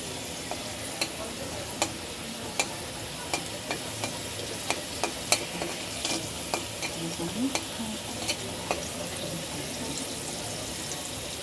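Green chilies and garlic frying in a pan, a steady broadband sizzle with repeated sharp clicks and scrapes from stirring throughout, close and fairly even in level.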